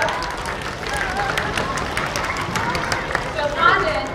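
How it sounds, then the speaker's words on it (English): An audience at a science center show for children applauds a viewer, with steady, fairly loud clapping and crowd babble filling the clip and a brief swell near the end. "Let's give our viewer a round of applause."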